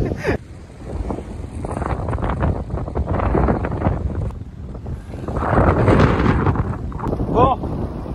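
Strong headwind buffets the microphone of a cyclist riding a bike in open country, a loud continuous roar and rumble that swells and gusts throughout.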